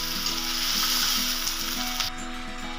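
Tomatoes sizzle steadily in a hot pan while heron flower fry is being cooked, a close, continuous frying hiss with faint scraping, with no voices.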